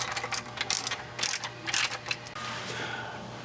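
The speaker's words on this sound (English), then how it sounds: "let me get a ratchet and I'll just start drawing these bolts down" A hand ratchet clicks in short bursts while clutch bolts on a 2000 Honda Civic EX 1.6L are drawn down in a crisscross pattern, close and crisp against a low background hum.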